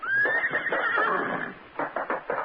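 A horse gives a loud, close whinny, followed by a few rhythmic clip-clops of hooves.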